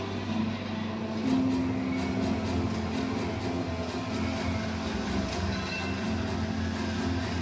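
A tram runs along the city streets of Montreal with a steady, moderately quiet rolling rumble and faint periodic clicks, carrying on for several seconds with no talk over it.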